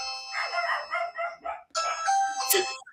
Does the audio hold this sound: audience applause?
no